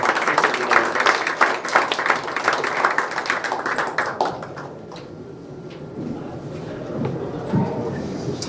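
A room audience at a community candidate forum claps for a departing candidate, steady applause that fades after about four seconds into quiet room noise with faint movement.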